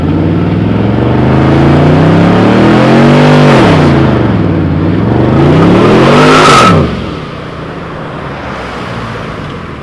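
A Pontiac Firebird street racing in Mexico roars loud and near, its engine rising and falling through hard revs and shifts before cutting back to a lower rumble as it pulls away.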